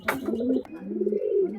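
A Pakistani Kasuri pigeon coos close by in one rolling, throaty burst, with a short sharp tick partway through and a quiet pause before the low coo resumes.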